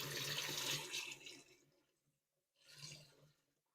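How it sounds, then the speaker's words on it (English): Cold water from a kitchen tap pours over freshly boiled eggs in a pan, a close splashing rush that fades out, pauses briefly, then returns for a shorter burst. "Just simply run cold water."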